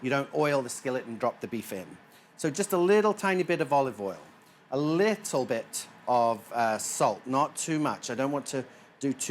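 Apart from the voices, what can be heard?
No everyday noises stand out.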